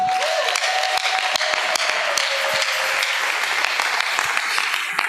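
Church congregation applauding the Lord: sustained dense clapping from a crowd, fairly close and even throughout, with a faint held tone near the start and scattered sharper claps.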